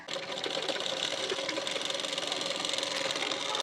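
Sewing machine running steadily while stitching along the edge of a blouse waistband strip, a continuous fast mechanical whir with a light rattle throughout, close and fairly loud with no talking.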